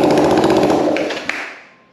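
A 1965 Honda CB450 motorcycle engine with a new engine fitted, running loud and close on a little choke with a steady mechanical rattle, then fading away over a couple of seconds.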